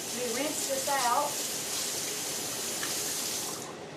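Water from a running tap splashes into a measuring cup as it is rinsed out, a steady close hiss with brief voiced sounds near the start.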